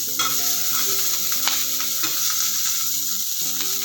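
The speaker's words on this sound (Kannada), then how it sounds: "ಇದಕ್ಕೆ ಈರುಳ್ಳಿ ಕೂಡ ಹಾಕೋತೀನಿ" Steady sizzling of onions frying in a pan, with a constant hiss and occasional crackles, while a bright musical tone plays over it.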